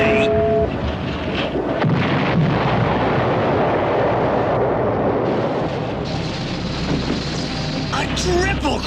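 Cartoon bomb explosion in the Transformers animated series: a loud, sustained roaring blast that rumbles on for about nine seconds, dense and broad with no clear breaks.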